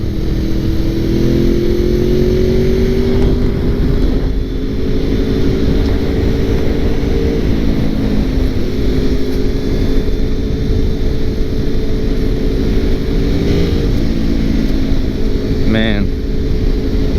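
A 2002 Honda VFR800 motorcycle engine while riding, a steady loud drone with rising and falling tones as the revs shift, heard close with wind rush and a rider talking over it.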